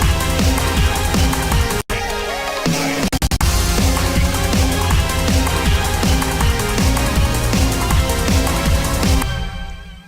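Dense song playing with the guitar muted, leaving a steady groove of bass and drums, loud and continuous with one brief dropout near the start, then fading out at the end.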